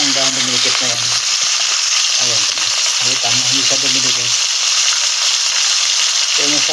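Fish frying in a pan of oil, a constant loud hiss and crackle throughout, with bursts of low rattling and stirring clatter over the sizzle.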